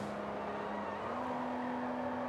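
A car in the Sleeping Dogs video game goes past during a street race: a steady, loud engine drone with a sustained tone that shifts slightly in pitch partway through, continuous and close.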